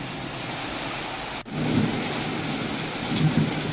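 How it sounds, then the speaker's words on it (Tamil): Heavy evening rain pours in a steady dense hiss, broken by a sharp nearby thunderclap with a deep rumble trailing after it, no voices present. "மாலையில் கனமழை பெய்தது"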